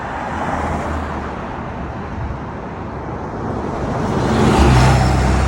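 Steady car and bus traffic rumbling along a street in Sharq business district, Kuwait, a dense continuous roadway roar with a heavier vehicle swelling nearer toward the end.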